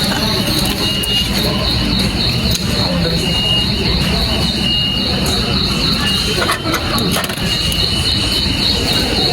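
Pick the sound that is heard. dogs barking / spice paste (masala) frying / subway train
subway train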